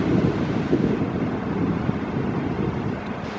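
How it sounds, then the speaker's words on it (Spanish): Large ocean waves breaking on sharp rocks along the north shore of Oahu, Hawaii, a steady loud roar of surf with wind buffeting the microphone and no voices. "Por las olas grandes y las rocas filosas."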